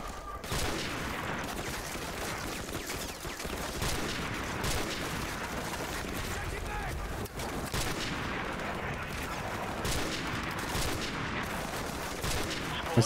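Rapid gunfire bursts in Call of Duty: Modern Warfare Remastered, a dense, continuous fusillade of shots that stays loud throughout.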